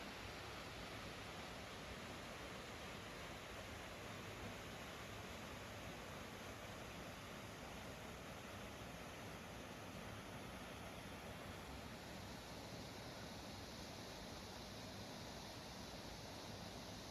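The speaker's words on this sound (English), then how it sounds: "The sound of the water rushing over the rocks has a way of quieting the mind." Water rushes over rocks at Edworthy Falls in Kananaskis, a steady, dense, unbroken roar that stays even and moderately faint throughout, with no voices.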